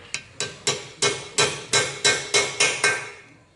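Evenly spaced metal-on-metal hammer blows drive a new oil restrictor into an RB30 cylinder head with a punch, about nine sharp, ringing strikes in a steady rhythm, close and fairly loud, no talking.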